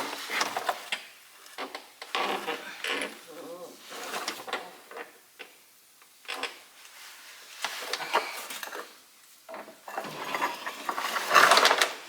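Ratcheting torque wrench tightening the bolts of a steering gearbox on a 2002 Cummins truck, repeated bursts of close metallic clicking separated by short pauses, with someone talking in between.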